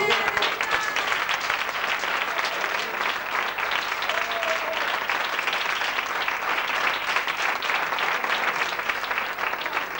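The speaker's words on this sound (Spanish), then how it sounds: "Y vamos a darle también un aplauso a ella" Steady, dense applause from an audience at a flamenco centenary tribute, clapping for a flamenco dancer, loud and continuous for the full ten seconds with a few faint voices mixed in.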